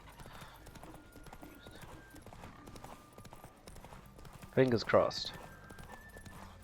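In Witcher 3: Wild Hunt, the horse Roach gallops with a fast, steady clip-clop of hooves throughout, while a person talks over the quiet hoofbeats and a louder burst of voice breaks in near the end.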